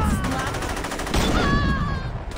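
Dense, rapid gunfire from the Saints Row video game rattles on continuously and loudly for a couple of seconds, suggesting automatic weapon fire with no pauses between bursts.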